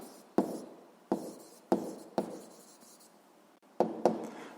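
Chalk or marker taps and strokes on a classroom board while a rule is written, six sharp close knocks, each followed by a brief scratchy trail, spaced unevenly with quiet gaps between.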